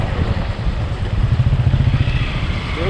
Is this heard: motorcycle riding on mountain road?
yes